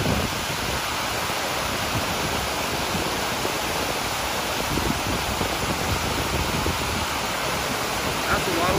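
Grout Creek, a tributary feeding Big Bear Lake, rushes fast and full, a dense steady roar of water filling the scene from start to finish, close and unbroken.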